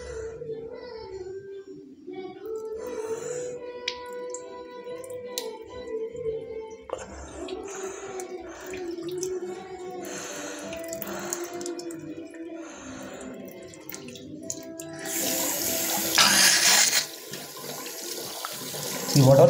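Water running and splashing during jala neti nasal cleansing, a steady pour and trickle through the nostrils that continues throughout, growing louder and hissier near the end, with faint sounds in the room.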